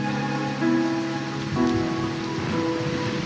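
Steady rainfall in the video game Wuthering Waves, a continuous patter on surfaces beneath soft, sustained musical tones, with no voices.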